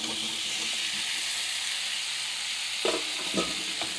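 Cauliflower and potato hit hot oil with cooked spice masala, setting off a loud, broad, hissing sizzle that holds steady, with a couple of stirring scrapes near the end.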